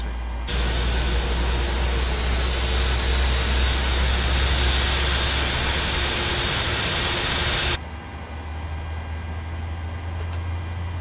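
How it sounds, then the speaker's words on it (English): Airliner jet engine spooling up during start in Microsoft Flight Simulator 2020, a loud steady broadband roar with a low hum that holds for about seven seconds, then cuts to a quieter steady whine. "Engine number 2 is started. Let's start number 1."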